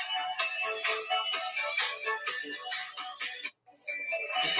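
A mobile phone ringtone plays loud and close, a repeating bright electronic melody with a brief gap near the end before it resumes.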